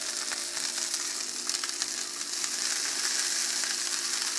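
Rice fries in a pan with broccoli, a dense, steady sizzling hiss up close with small crackles throughout and no talking.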